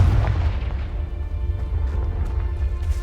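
Confringo blast spell fired in the video game Hogwarts Legacy, a loud booming explosion with a heavy low rumble that rolls on for a few seconds.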